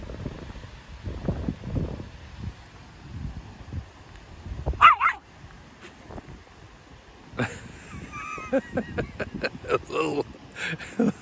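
A small dog barks at an emu outdoors on a farm, with sharp, scattered yaps and a few whimpers coming in bursts, some close and loud, while people talk nearby.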